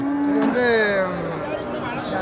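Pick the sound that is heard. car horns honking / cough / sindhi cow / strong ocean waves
sindhi cow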